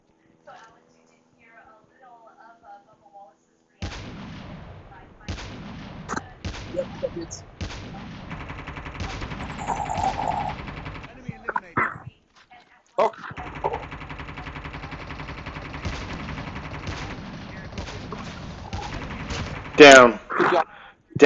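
Video game gunfire comes in sharp bursts and single shots, starting after a quiet opening and repeating through the stretch, with loud cracks near the end and players talking throughout.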